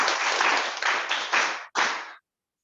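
An audience at a youth development project launch gives a loud, dense round of hand clapping that surges in waves, then breaks off and ends abruptly in silence.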